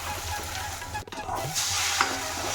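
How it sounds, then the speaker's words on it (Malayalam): Egg is stirred and scrambled in melted ghee in a hot pan for the Thalassery plantain snack kaayikritha, with a steady close sizzle and scraping of the spoon, briefly interrupted. "അത് ഇതിലേക്ക് ചേർത്ത് കൊടുത്തിട്ട് നന്നായിട്ട് ചിക്കി പൊടിക്കുക"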